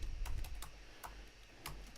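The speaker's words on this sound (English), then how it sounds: "So I'm just going to start typing up." Typing on a computer keyboard comes through as scattered, soft key clicks in an irregular rhythm, faint and close, over a low background hum.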